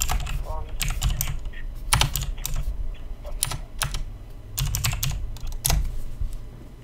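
Clicky computer keyboard typing at close range, bursts of rapid keystrokes with short pauses, over faint background hum.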